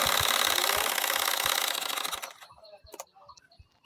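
A sewing machine stitching a nakshi kantha quilt whirs loudly and steadily for about two seconds, then stops, leaving faint clicks and rustling of the cloth being turned.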